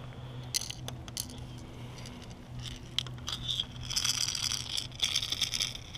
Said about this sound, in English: There's all those BBs rattling around.